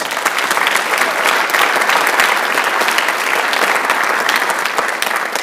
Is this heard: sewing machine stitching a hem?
no